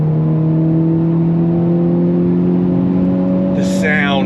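A Hyundai Elantra N with an 8-speed dual-clutch transmission holds a steady droning engine note, then blips on a downshift near the end, loud and close, heard from inside the car.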